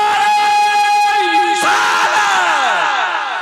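A crowd at a naat gathering in West Bengal shouts a loud takbir chant in unison, a sustained roar of many voices that swells and then trails off.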